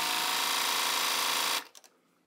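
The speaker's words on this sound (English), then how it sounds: "Now we're gonna take the pocket bags and we're gonna serge all the way around this edge here." A serger overlocks around the edges of trouser pocket bags with a steady, close mechanical whir that cuts off sharply, followed by a few light clicks and handling noises.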